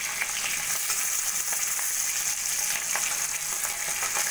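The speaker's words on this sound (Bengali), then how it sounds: "এবার ইলিশ মাছ বেশি ভাজতেও নেই, সেই জন্য হালকা করেই আমি ভেজে নেব।" Hilsa fish pieces fry in a pan, giving a steady, close hissing sizzle with light crackles throughout and no voices.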